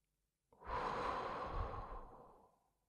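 A single deep, slow breath out during a mindfulness exercise, a long close-up exhale that swells quickly and then fades gently over about two seconds. It is heard alone in a quiet room.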